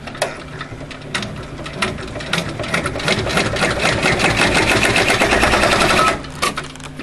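A sewing machine stitches a pocket onto a bag in fast, rattling bursts, starting and stopping before a long continuous run that ends abruptly, loud and close with no voices.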